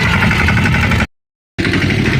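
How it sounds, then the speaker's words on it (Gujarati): A mini tractor engine, being brought up on a farm to hitch a tooth harrow, runs with a loud, steady idling chug that cuts out for about half a second and then resumes. "મિની ટ્રેક્ટર લઈ આવે અહીંયા"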